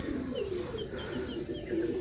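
Pigeons coo softly and repeatedly in low, throaty murmurs against a quiet background.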